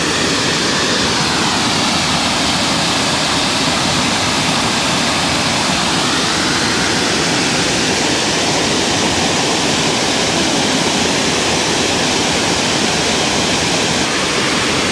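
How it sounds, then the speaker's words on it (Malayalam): Palakkayam Thattu waterfall in Kannur roars loudly and continuously, a dense, unbroken rush of falling water heard up close with no pauses. "ഇവിടെ നല്ല ശക്തമായിട്ട് ഒഴുകുന്നത് കേട്ടോ."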